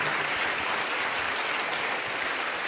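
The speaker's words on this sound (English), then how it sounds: "Give a round of applause to your team." Audience applause at a live Sadhguru Save Soil event in Azerbaijan, a steady, dense clapping that fills the whole stretch at even loudness with no voices over it.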